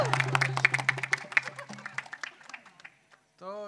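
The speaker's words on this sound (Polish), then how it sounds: "Słabe brawa były, słabe. Zróbcie hałas jeszcze!" Concert audience clapping and calling out in a burst of scattered claps, with voices and a sustained low tone mixed in; the noise thins out and fades before a brief pause.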